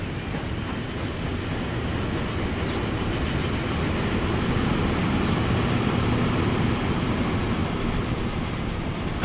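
A train departs in the video game Transport Fever 2, giving a steady, loud rumble of rolling wagons that holds constant and swells slightly throughout, with no talk over it.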